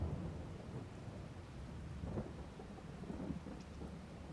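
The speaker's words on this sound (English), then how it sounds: "Rain started. We've got to stop the harvesting for now." Steady rain in Farming Simulator 22 hisses evenly throughout, with soft rolls of thunder rumbling low beneath it and no voices.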